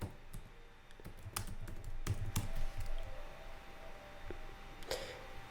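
A computer keyboard takes sparse, irregular keystrokes, a few sharp clicks scattered over a quiet background with a faint hum, and no one speaks.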